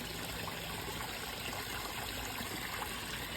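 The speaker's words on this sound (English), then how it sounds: "the weight of the water going in is pushing the water up and over" Water from hoses pours into a koi pond and spills up and over its edge, a steady close-up gushing and trickling wash with no voices.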